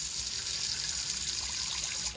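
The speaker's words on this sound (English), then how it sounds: "if I open up the hot side, like so, yes, I've got running water, it's here, it's established." Hot tap of a caravan water system on a Swift Elegance model runs steadily, a continuous close hiss of flowing water with no voices.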